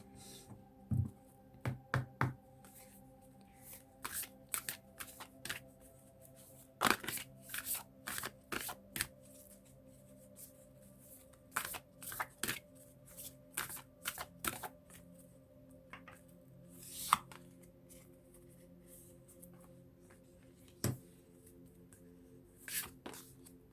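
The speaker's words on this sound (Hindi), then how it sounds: "उसके बाद निकालते हैं आपके लिए कार्ड्स।" Tarot cards shuffled and drawn by hand in a quiet room, giving bursts of crisp riffling and soft slaps scattered across the stretch, close and fairly faint over a low steady hum, with no talking.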